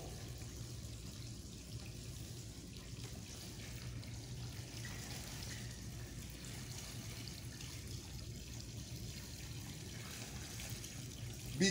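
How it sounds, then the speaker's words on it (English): Floor stripper liquid is poured into a 55-gallon trash can, a soft steady pouring and trickling sound, faint and continuous, with no talking. "I take and pour it in this 55-gallon trash can"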